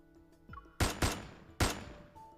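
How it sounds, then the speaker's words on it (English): Gunshots ring out in an empty reception hall in the video game Death and Rebirth, three sharp loud blasts with echoing decay, the first two close together and the third a moment later, over a quiet ambient hum. "A gunshot explodes in the empty reception hall."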